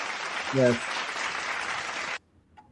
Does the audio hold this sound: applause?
yes